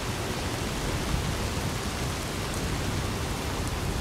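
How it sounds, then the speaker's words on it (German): Steady, dense rainfall in the fantasy role-playing game Enderal, a constant even hiss with no talking over it. "sag mir jetzt nicht, dass es regnet"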